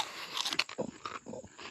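Crunchy chicharon pork rinds with a splash of vinegar are bitten and chewed close up, a few sharp crackling crunches in quick succession.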